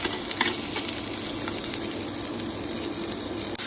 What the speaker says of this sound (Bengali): হাড়িতে প্রথমে তেলটা তেলের সাথে পেঁয়াজকে ভেজে নিচ্ছি